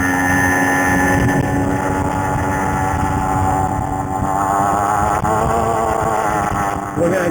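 Riding at half throttle, a CAG 49cc pocket bike with its stock exhaust gives a continuous buzzing engine tone that wavers slightly, with wind rushing across the microphone throughout.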